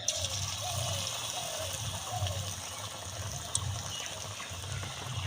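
Shaped onion fritters (piyaji) sizzle in hot oil with a steady close bubbling hiss, continuous throughout.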